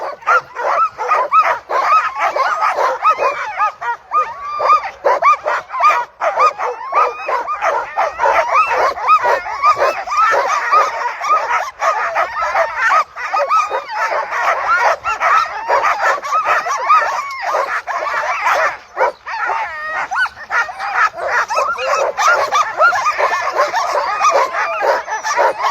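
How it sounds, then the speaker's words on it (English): A crowd of Alaskan husky sled dogs at a race near the Knik Bar by Settler's Bay, barking, yipping and whining continuously and excitedly, loud and dense, with many overlapping voices throughout. "Great looking happy dogs here, friends."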